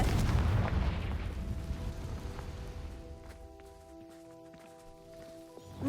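In the video game Hogwarts Legacy, a Confringo spell explosion opens with a loud, deep boom that rumbles and fades over several seconds, leaving quiet tonal game sounds behind.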